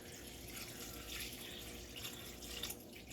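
Spring water poured over Irish sea moss in a container, a faint steady trickling splash that runs continuously with small surges.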